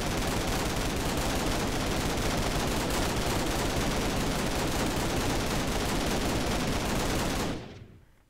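Assault rifle fire in Minecraft with Flans Mod: a dense, unbroken stream of rapid shots holds at steady loudness for about seven seconds, then cuts off abruptly and fades.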